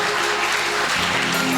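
A congregation at a Telugu Christian Friday worship service claps steadily together, a dense, continuous patter of hands that stays loud and even throughout, with a faint hum underneath.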